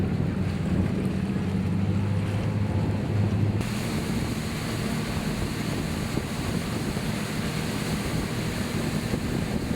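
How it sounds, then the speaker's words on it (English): A water taxi motorboat cruises over the open Caribbean Sea past Placentia, its steady engine drone mixed with rushing waves and wind buffeting the microphone, with no talking. "we board their water taxi and cruise out past Placentia"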